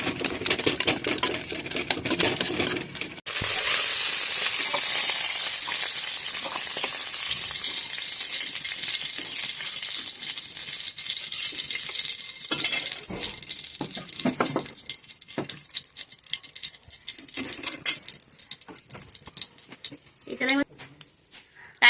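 Dry red chillies and a bay leaf dropped into hot oil burst into a sudden loud sizzle that gradually eases into a steady crackle, with a person talking and some utensil clatter over it.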